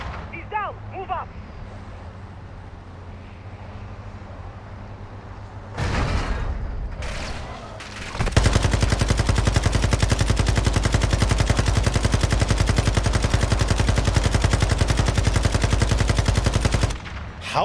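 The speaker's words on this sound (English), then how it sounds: "How are none of those bullets hitting the fucking driver?" Sustained automatic gunfire in a video game shooting at a vehicle driver, a long, loud, unbroken stream of rapid shots following a few earlier blasts and mechanical clunks.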